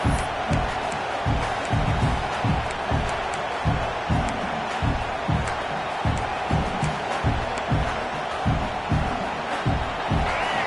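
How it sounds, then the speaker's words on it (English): Football stadium crowd at Oregon roaring and cheering in a dense, continuous wall of noise, with rhythmic surges and stomping-like pulses throughout, no single voice standing out. "this crowd trying to help keep them there"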